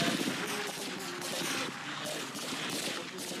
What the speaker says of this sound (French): Les balles ricochent sur les rochers.